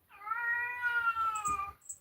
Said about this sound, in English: There's a cat outside my door.